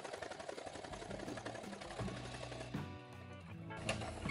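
A sewing machine stitches Jedi shoulder armor that is not feeding or sewing properly, giving a steady mechanical whirr with short pauses and a few uneven bursts, fairly close and alone.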